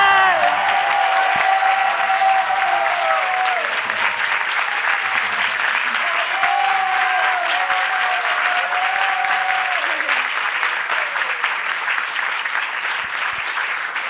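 Sustained audience applause fills a devotional retreat hall, steady and dense from start to finish, with faint chanting or singing voices drifting over the clapping.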